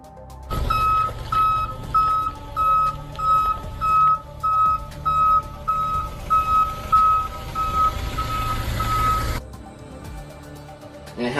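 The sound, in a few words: truck reversing beeps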